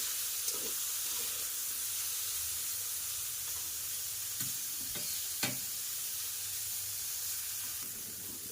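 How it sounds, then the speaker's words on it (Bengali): Bitter gourd seasoned with salt and turmeric fries in hot oil in a karai, a constant soft sizzle broken by a few scraping stirring strokes, close up and without voices. "উচ্ছেটাকে বেশ লাল লাল করে একটু ভাজা করে নেব।"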